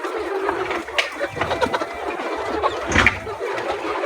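Organically raised laying hens cluck and murmur in a steady busy chorus as feed is given, with occasional sharper calls rising above the flock.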